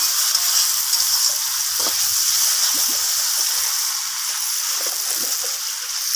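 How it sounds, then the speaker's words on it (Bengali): Mango and sugar cook down in a hot pan for a sweet-sour chutney, giving a loud, continuous close sizzle and bubbling with soft stirring scrapes throughout and no talking. "চিনিটাকে দিয়ে আমের সাথে আবারও নাড়াচাড়া করে চিনিটাকে এইভাবে রান্না করে নিচ্ছি"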